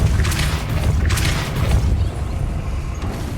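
The Depulso force spell in Hogwarts Legacy lands as a loud, dense boom with rumbling, crashing debris and creaking mechanisms, a few sharp hits early, then a sustained roar.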